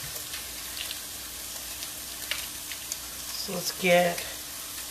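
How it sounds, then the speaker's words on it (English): Half a pound of breakfast sausage sizzles and crackles steadily in a pan on the stove, with occasional stirring and scraping, while a person briefly speaks near the end. "over here on the stove I have a ½ pound of breakfast sausage cooking up now"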